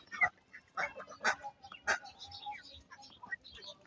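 Ducks wander in among grass-eating chickens to feed, giving a few loud, irregular honking quacks close by over soft background rustle.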